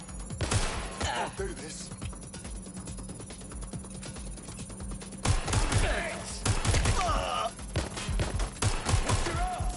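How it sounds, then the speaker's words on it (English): Automatic gunfire rattles in Watch Dogs Legion, with bursts of fusillade coming in clusters near the start and again in the second half, and a short line of speech passing between them. "Suspect has opened fire."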